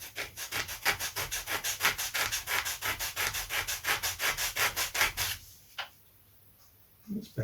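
Coarse sandpaper rubs back and forth on a wooden corner of a vintage Lunak aerobatic glider under construction, about two dozen quick, even strokes, close and fairly soft, then stopping with a couple of faint handling noises.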